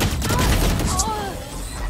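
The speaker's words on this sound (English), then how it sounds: "Bomb grenade out." Valorant match audio: a muffled grenade blast and bursts of gunfire crackle together, dense and loud, with a voice talking over the action.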